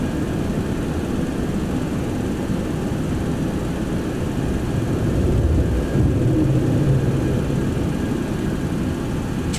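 A Boeing 727-100 roars on a climb-out after takeoff, a steady loud low engine rumble heard from inside the aircraft, swelling slightly near the end, with no talking.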